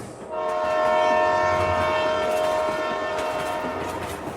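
A train runs steadily close by in an audio story, its engine a sustained rumble topped by a long, loud horn-like tone that swells early and holds throughout.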